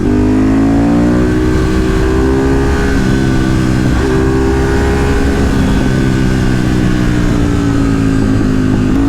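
A loud Ducati 848 EVO V-twin motorcycle engine drones close by on canyon roads, its harmonic roar rising and dipping as the rider works the throttle, continuous for the whole stretch.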